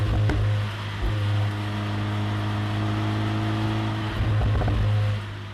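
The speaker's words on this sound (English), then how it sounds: "we don't have much longer with the soft burble of a brand new four-pot" A brand-new four-cylinder car engine idles with a steady, soft low burble, close and continuous, with a couple of slight revs near the start and end.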